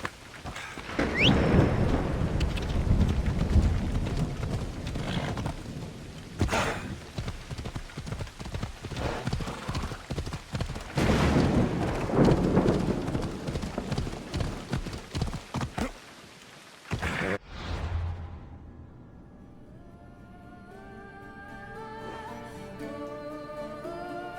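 Horse hooves clip-clop at a gallop in the game Assassin's Creed Odyssey, a steady rhythmic beat up close with thunder and rain rumbling behind it, ending in a brief lull and a softer tonal passage.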